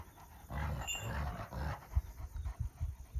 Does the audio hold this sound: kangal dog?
yes